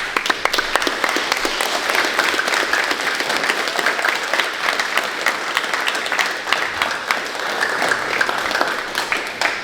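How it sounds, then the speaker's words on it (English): An audience at a black belt promotion event claps steadily, a dense, even patter of many hands sustained for several seconds at moderate volume. "Some of you are clapping like, yeah."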